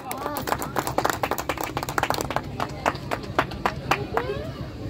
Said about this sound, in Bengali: একবার জোরে হাততালি সম্রাটের জন্য।